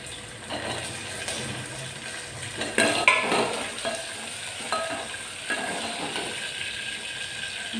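Onions and karonda berries fry in a pan, a steady close sizzle with occasional scraping stirs and a brief clatter of utensil against the pan near the middle, no one talking.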